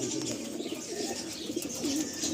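Several pigeons in a loft give soft, rolling coos, a few overlapping calls that sit fairly close but quiet over a steady murmur of background noise.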